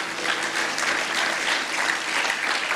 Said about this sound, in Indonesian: Kasih tepuk tangan buat Allah kita.